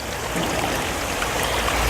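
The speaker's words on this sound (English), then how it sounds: "we're going to put this down into the water and kind of wash it off a little bit." Molded recycled-plastic bench piece being rinsed in water, giving a steady close sloshing, trickling wash without pauses and no speech.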